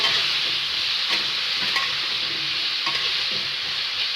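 Potatoes frying in a pan with turmeric powder, being stirred while they brown: a steady close sizzling hiss with occasional scraping stir strokes, no talking.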